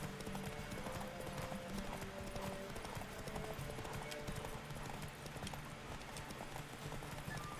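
A horse gallops in The Witcher video game, its hooves making a steady, rapid clip-clop rhythm that continues throughout at a fairly quiet, even level with no talking.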